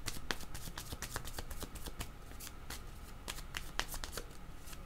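Playing cards shuffled and drawn at close range: quiet, crisp riffling and flicking with irregular sharp snaps, no talking.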